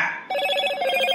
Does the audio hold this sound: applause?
no